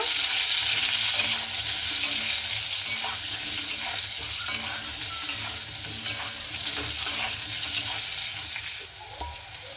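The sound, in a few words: pointed gourd frying and stirred in pan with salt and turmeric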